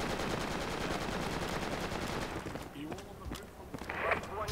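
Rapid video-game gunfire rattles in dense automatic bursts that fill the opening seconds, then thins out into scattered shots as players chatter over comms throughout.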